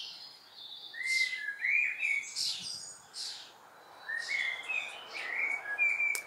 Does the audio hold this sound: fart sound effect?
no